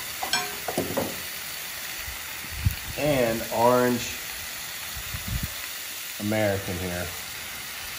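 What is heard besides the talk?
sourdough bread and ham sizzling on electric griddle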